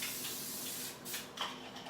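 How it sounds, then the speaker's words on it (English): Olive oil cooking spray hisses faintly onto an indoor grill in two or three short bursts over a quiet kitchen background hum. "So I'm spraying it with some olive oil spray"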